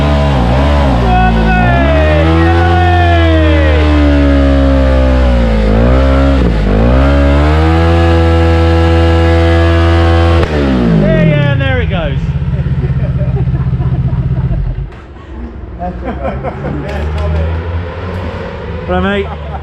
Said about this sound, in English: Jimmy, give us a burn out, go on, give us a burn out, man.